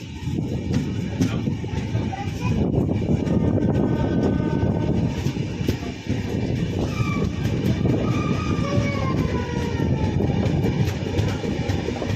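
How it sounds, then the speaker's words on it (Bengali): Howrah–Puri Superfast Express train pulling out of a station, with a loud, continuous rumble and rattle of wagons heard up close from on board. "এরপর আমাদের ট্রেন ছেড়ে বেরিয়ে যাচ্ছে।"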